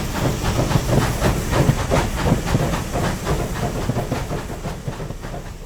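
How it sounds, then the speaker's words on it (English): A steam train in a homestead video game rolls loudly past in a forest setting, with hissing steam and a rhythmic clickety-clack of wheels that fades slightly toward the end. "That train is so loud."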